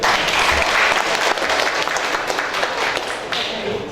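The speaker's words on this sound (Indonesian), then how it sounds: "Tepuk tangan dong." Steady, dense applause from many people fills a hall at an Indonesian organization's congress in Jabodetabek, continuous clapping with no break across the whole stretch.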